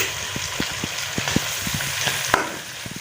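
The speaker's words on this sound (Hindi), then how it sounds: "हमने चिकन को एक साइड पर करके जो है ना अदरक और लहसुन को जो है ना फ्राई कर रहे भून रहे हैं" Ginger and garlic paste frying beside chicken in a pan: a steady close sizzle with scattered light pops and scraping stirs throughout.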